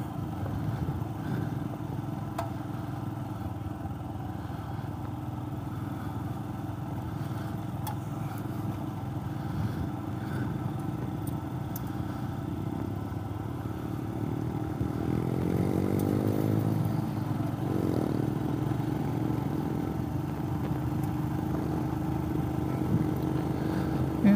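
A Himalayan motorcycle with a sidecar runs over a rough road near Port Gawler, South Australia. Its engine hums steadily with faint clatter from the bumps and builds a little louder near the end.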